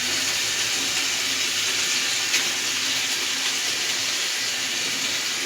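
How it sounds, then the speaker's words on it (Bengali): Water pouring into a pan of pointed gourd and prawn curry seasoned with turmeric and coriander, a steady broadband rush that runs unbroken and fairly loud throughout. "দিয়ে দেবো সামান্য একটু জল।"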